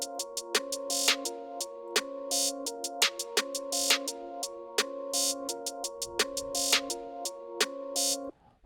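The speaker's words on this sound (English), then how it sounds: "I put two different types of snares." Two kinds of trap snare hits, programmed in FL Studio, crack through a bright, looping synth melody, sharp and close, with a busy irregular pattern and no talking.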